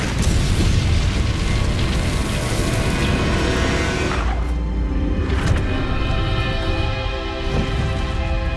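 The Incendio fire spell cast in the video game Hogwarts Legacy: a loud, dense roaring blast of flame and rumble that fills the first half, then tails off into quieter ringing game effects.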